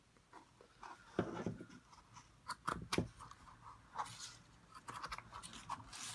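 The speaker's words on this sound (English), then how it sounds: "we're going to cut through all of these threads" Scissors snip through the warp threads of a cardboard loom, with a run of separate crisp cuts, some close and sharp, spread out at irregular intervals against a quiet room.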